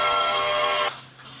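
A phone rings in a bright, tonal electronic ringtone that holds steady for just under a second and then cuts off, close and alone.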